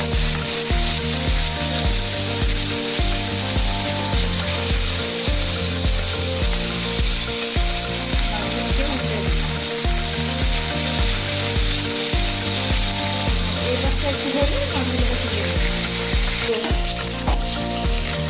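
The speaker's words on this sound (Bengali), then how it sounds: "এটা খুব শক্ত করে ভাজবো না, এই যে বন্ধুরা এইভাবে হালকা করে ভেজে নেব।" Pomfret fish pieces lightly frying in hot oil, a steady loud sizzle with bubbling crackle running throughout, with no voice over it.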